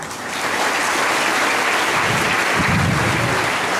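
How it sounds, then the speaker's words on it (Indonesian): An audience claps for Ustaz Mahbub at a religious school gathering, with dense, sustained applause filling the whole stretch at an even, fairly loud level. "Kita kasih tepuk tangan buat Ustaz Mahbub ini."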